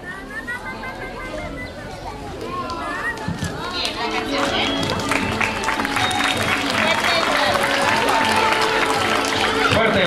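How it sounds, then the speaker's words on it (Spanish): Audience applause for students at a school event, building from crowd chatter and movement into loud, dense clapping that grows stronger toward the end, with voices throughout. "Fuerte el aplauso."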